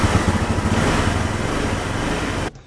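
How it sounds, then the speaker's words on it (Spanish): A motorcycle engine drones steadily at close range for a couple of seconds, then cuts off abruptly. "voy a probarlo con esta moto"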